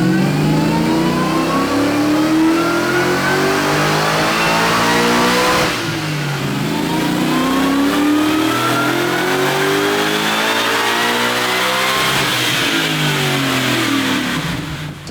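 A supercharged Ford Boss small-block 363 cubic inch V8 in a 1965 Mustang roars on a dyno, close and loud, climbing through long full-throttle pulls with a brief dip near the middle.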